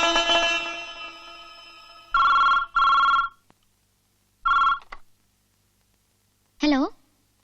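Telephone ringing in a Malayalam film scene: a fading tone, then two long electronic rings and a shorter third burst, loud and close, with a brief voice or sound near the end.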